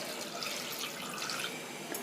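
Half a litre of water poured into a cooking pot with beetroot, cloves and cardamom for homemade red wine, a steady close splashing stream with no one speaking.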